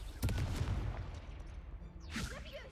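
A Confringo spell in the Hogwarts Legacy game lets out a rough, booming burst of crackling impacts, then fades. A swishing whoosh follows near the end of the short clip.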